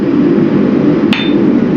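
A single sharp, ringing hammer strike using a farrier's whip technique while forging a cable Damascus knife, loud and close, with a brief metallic ring over steady background noise.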